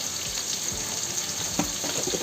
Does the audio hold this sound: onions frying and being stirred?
yes